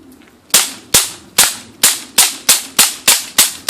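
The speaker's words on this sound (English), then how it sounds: "Another clip, 19 shots from the XBG" Shots from an XBG gun in a first-person shooter game ring out about ten times at a steady, fairly quick pace, each a sharp, loud crack with a short decaying tail.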